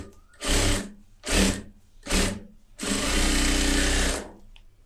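A tailor's sewing machine runs edge stitching in three short bursts, then one longer steady run, each a loud buzzing whir close by, separated by brief pauses and with no talk.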